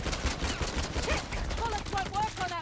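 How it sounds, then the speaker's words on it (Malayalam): Quick bursts of gunfire from the Uncharted: The Lost Legacy video game crack in a rapid, uneven string, fairly faint, with a voice talking over part of it. "നമ്മള് വെറുതെ വെടി വെക്കുന്നത്."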